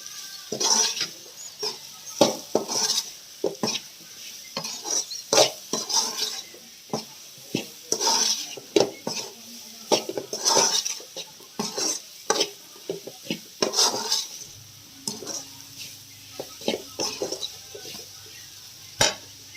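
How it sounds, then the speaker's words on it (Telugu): Radish curry being stirred in a pan over a high flame, with repeated scraping and clinking strokes of a spoon against the metal at an uneven rhythm, close and fairly loud, with a faint sizzle beneath and no talk. "కొంచెం హై ఫ్లేమ్లో పెట్టి కలిపి మంచిగా మిక్స్ చేసి"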